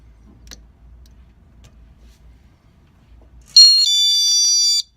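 A loud, steady electronic alarm tone from a second-generation security display sounds for about a second after its battery is replaced, following near silence.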